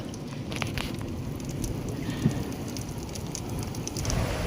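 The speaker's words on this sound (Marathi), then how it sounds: "आकाश पूर्ण मोकळं झाले तरी बारीक बारीक पाऊस पडता" Light rain falls at sea from a fishing boat during a night of fishing, a steady soft patter and hiss with scattered drops and a low wash of water and wind throughout, no voices.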